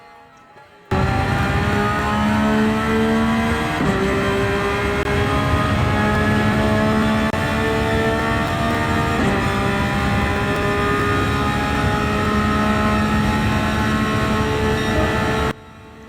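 Race car engine on a qualifying lap of Dragon Trail Seaside reverse in Gran Turismo 7, loud and continuous, its pitch climbing steadily through the gears with a couple of sharp shift drops, starting and stopping abruptly.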